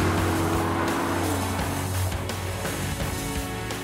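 A Bentley Continental GT V8 S drives along South African mountain roads, its engine a loud, steady close drone with a slight rise and fall, alone without speech.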